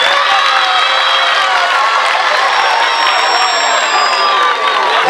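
Crowd at a school ceremony honoring teachers and staff, a loud continuous mass of clapping mixed with cheering and shouting voices, steady throughout.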